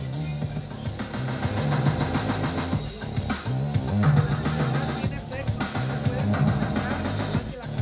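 Loud electronic beat with repeating mono delay echoes from a Roland AIRA MX-1 mixer trailing each hit, layered over a thumping bassline and steady rhythm.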